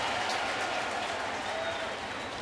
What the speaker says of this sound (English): A nice applause here for Capuano